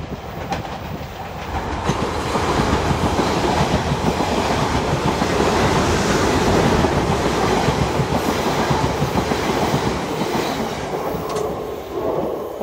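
A Class 450 electric suburban train passes at Clapham Junction on the South Western Main Line, a loud sustained rumble with steady clickety-clack of wheels over rail joints, lasting throughout without talk.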